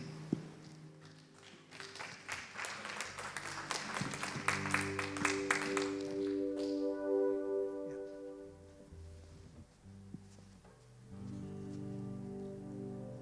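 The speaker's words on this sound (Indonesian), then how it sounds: "Sekali lagi tepuk tangan buat Yesus Tuhan." A church congregation at a Sunday worship service claps together in dense, steady applause for about six seconds, then the clapping fades as sustained music takes over.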